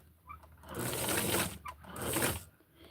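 Sewing machine stitching vinyl for a 1966 Francie doll outfit, two quick bursts of rapid mechanical whirring separated by a short pause, close and fairly quiet.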